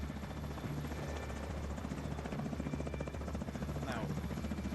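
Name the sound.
helicopter approaching in video game The Division 2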